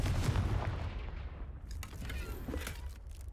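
A Confringo blasting spell cast in a video game: a sharp explosive burst at the start that fades into a crackling, rumbling tail with a few smaller pops over about three seconds.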